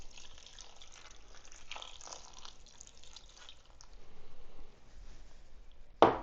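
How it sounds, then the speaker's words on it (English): Beef broth poured from a cup into crockpot soup, a soft steady trickling and splashing of liquid with a thicker gush near the middle, close and faint, ending with a brief sharp knock. "we're also going to add 1 cup of beef broth to the mix."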